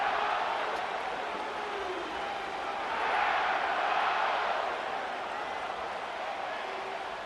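Stadium crowd at SoFi Stadium in Inglewood in Madden NFL 25, a steady distant roar of fans swelling slightly midway, fairly faint, with no clear individual voices standing out.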